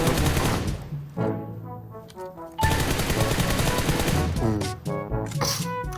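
Rapid automatic gunfire from PUBG Mobile rattles in dense bursts, cut by short pauses, loud and close over a steady game soundscape.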